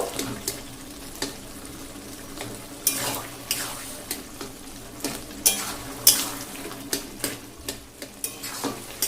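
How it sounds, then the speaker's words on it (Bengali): Taro stems are stirred in a pan over high gas heat while their water cooks off: a continuous wet sizzle broken by repeated sharp scrapes and clacks of the spoon against the pan, close and fairly loud. "এভাবেই নেড়ে চেড়ে আমি কচুর ডাঁটার ভিতরকার সমস্ত জলটা একদমই শুকিয়ে নেব"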